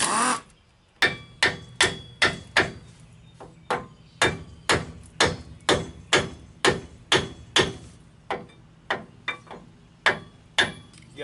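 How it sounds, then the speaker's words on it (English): A hammer repeatedly strikes a brake caliper on a GMC or Chevy 4x4 dually truck. About twenty sharp metallic blows land in a steady rhythm, loud and close, with brief pauses between groups. "You got to be careful where you hit it with a hammer and how hard"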